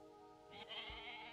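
A single goat bleats briefly in a video game, a short nasal wavering cry heard alone at moderate distance.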